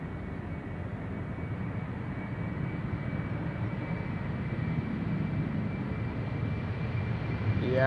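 Embraer 190 airliner at Amsterdam Schiphol Airport, a distant, steady low engine rumble that slowly grows louder over several seconds, with no talk.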